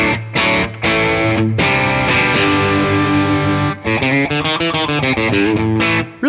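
An electric guitar played through a Tonex amp model on the push 2 setting, blending Boogie California Tweed and 2555X character, rings out in loud, driven chords and sustained notes with a gritty, slightly chorused edge, no talking.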